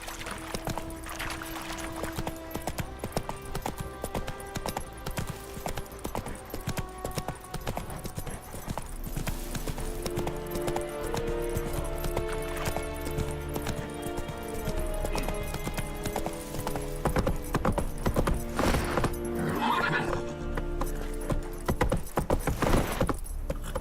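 Hooves of the horse Roach clip-clop steadily in The Witcher 3 at a trotting rhythm, close by and continuous, layered over a bed of game music with an occasional snort or whinny.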